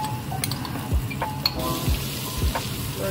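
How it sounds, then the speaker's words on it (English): Cabbage, ginger and chili with hing frying in a pan for no-onion, no-garlic pav bhaji, a soft continuous sizzle broken by a few dull stirring knocks and light utensil clinks. "Let it fry nicely."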